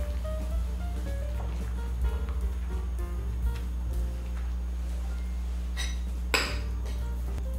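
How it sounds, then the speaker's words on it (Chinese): Red dates and goji berries stirred in a pot for rice-wine chicken: soft scraping under a low steady hum, then two sharp metallic clinks of a utensil against the pot near the end. "搅拌一下"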